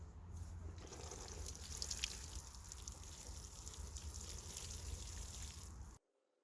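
Water pouring and trickling steadily as garden beds of seedling mix are watered, a continuous soft splashing that runs evenly before cutting off abruptly near the end.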